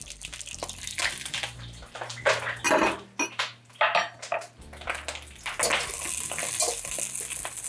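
Brussels sprouts tumble into a hot oiled pan on a home stove, a clattering of vegetables and metal followed by irregular knocks and a rising sizzle, close and fairly loud.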